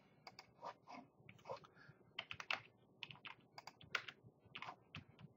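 Computer keyboard keys clatter in quick, uneven bursts of close taps and clicks while pasting with a shortcut, with faint talking underneath.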